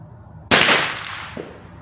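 A single sharp crack from a free-floated Remington 597 semi-automatic rifle firing .22 LR at a 100-yard target outdoors, loud and abrupt, then a short fading tail.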